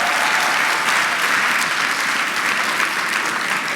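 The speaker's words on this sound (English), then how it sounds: "Hold your applause till the end so I can name the names." Dense, even applause from an audience at an evening recognition ceremony, continuous and fairly loud throughout with no speech on top.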